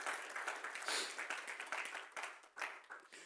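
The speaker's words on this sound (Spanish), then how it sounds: "Dele un aplauso fuerte al Señor." A church congregation at a Spanish-language Sunday service applauds, scattered uneven clapping from many hands, fairly quiet and distant, rising and fading in loose bursts.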